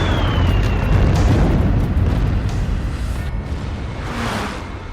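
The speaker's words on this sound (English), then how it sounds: "The explosion rocks the Japanese submarine, damaging it and preventing it from diving beneath the surface" A 1,000-pound bomb dropped by an American pilot explodes against a Japanese World War II submarine, a loud, sustained rumbling roar that fills the whole stretch and slowly eases without fading out.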